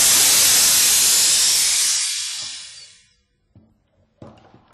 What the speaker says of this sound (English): Release compressed air.